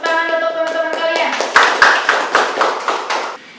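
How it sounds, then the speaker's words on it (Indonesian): Students in a classroom clap for their classmates, a burst of bright, fairly close hand claps with a clear ringing tone sounding underneath at first. "Tepuk tangan untuk teman-teman kalian."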